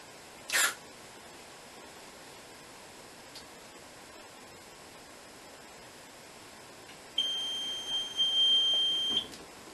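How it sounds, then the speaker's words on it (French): A smoke detector on an Arkeon smoke-extraction training model sounds with a brief sharp beep, then a sustained high-pitched electronic alarm tone near the end, over a quiet hissing background. "On va dire un détecteur à fumée."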